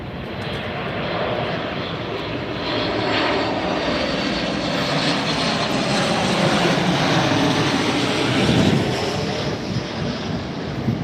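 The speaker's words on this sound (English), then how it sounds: "This is your 737 MAX 8, United Airlines." A United Airlines Boeing 737 MAX 8 jet roars past at an airport, a loud, steady engine rush that swells slightly toward the end, with some wind noise and no talking.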